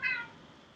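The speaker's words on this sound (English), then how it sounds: "that's the cat." A house cat gives a single short meow, close and fairly quiet, lasting well under a second.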